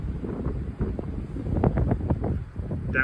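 Strong March wind gusts buffet the microphone in uneven rumbling surges, loud and close, with no speech.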